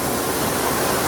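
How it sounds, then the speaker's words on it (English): A massive waterfall in Acadia National Park roars as a steady, loud, broadband rush of falling water, filling the short stretch with no other sounds. "we have found a waterfall here"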